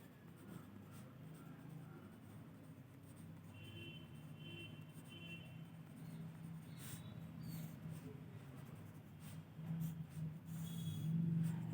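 Hand-writing of geometry construction steps for a Class 6 exercise: a faint, continuous scratch of pen or pencil on paper, quiet and close, with soft rubbing and a low background hum.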